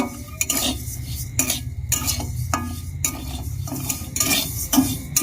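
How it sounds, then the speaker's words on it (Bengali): Rice grains dry-roasting in a pan on a low flame, stirred with a utensil that gives repeated scraping and clinking strokes against the metal pan, close and steady, with no talking. "লো ফ্লেমে রেখেই চালগুলোকে হালকা করে ভেজে নিতে হবে"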